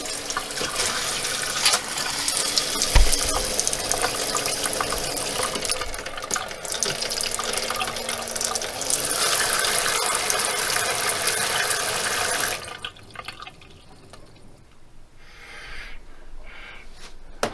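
An RV water pump running with a newly installed pressurized accumulator: steady rushing water flow with a low motor hum, loud and continuous for about twelve seconds, then dropping to a quieter trickle.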